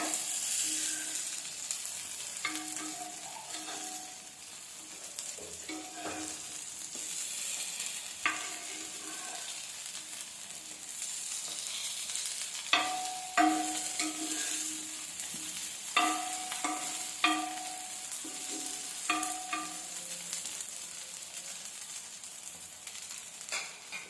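Brinjal slices sizzle in oil in a pan and are turned over, a soft steady frying hiss broken by intermittent scraping clinks from a spatula, close but moderately quiet.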